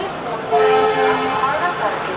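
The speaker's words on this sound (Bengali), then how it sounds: "হাওড়া থেকে ট্রেনটা ছেড়ে দিল" A train pulling out of Howrah station with a horn toot over a busy station background and people talking.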